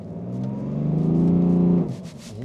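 A BMW 335d launches hard from a standstill, its engine note swelling loud and rising steadily for almost two seconds before dropping off sharply, as if at a gear change, with no one speaking.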